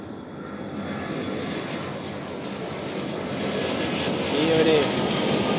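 An Aer Lingus airliner on final approach at Zurich Airport produces a steady, distant jet roar that slowly swells louder as it nears, with a faint voice talking over it.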